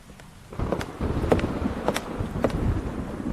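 Rain patters against a surface with a low rumbling wash of wind and distant thunder, with a few sharper cracks and taps scattered through.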